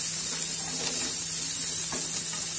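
Chopped onion sautéing in a pan for chicken bread rolls, a steady soft sizzle and hiss with faint stirring scrapes near the end, close and continuous.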